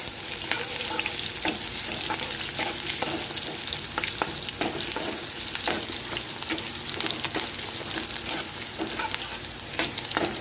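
Onion fries with peanut powder and cumin for dal sandgha bhaji, a loud, dense, unbroken sizzle crackling steadily throughout, close up and with no one speaking.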